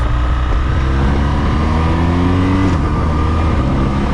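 A BMW R1200GS motorcycle being ridden, its engine droning steadily with rising and falling pitch as it accelerates, loud and close with strong wind noise over the microphone.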